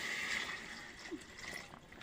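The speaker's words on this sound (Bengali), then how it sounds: "এখানে একটু পানি অ্যাড করবো।" Water is poured into a cooking pot of briefly fried spices for a beef and taro curry, a faint, steady splashing trickle against a soft, noisy kitchen background.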